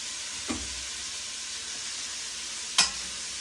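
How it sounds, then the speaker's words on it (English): Bacon grease sizzles steadily in a pot of pirate stew, a constant close frying hiss with two brief clinks or stirring knocks near the start and end. "I will add some bacon grease."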